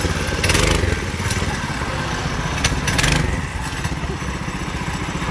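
Small stationary engine fitted to a motorized bicycle, loud and close, running with a rough buzzing drone and a couple of revving surges with rattling clatter as the bike pulls off.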